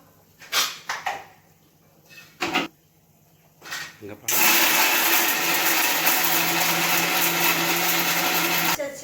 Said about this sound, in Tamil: ஓகே, இதை அரைச்சிக்கலாம்.